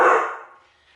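A single loud bark from a pet dog named Aurora rings out close by in a home kitchen and fades quickly.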